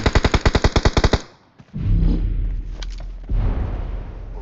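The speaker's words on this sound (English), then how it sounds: "What you doing over there? You shooting like that?" Rapid bursts of gunfire crack out in a quick, evenly spaced string of about a dozen loud shots, then stop, followed by a rumbling boom and a lower, rolling roar.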